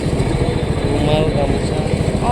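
A motorcycle engine runs steadily up close with a continuous low throb, while a person talks over it.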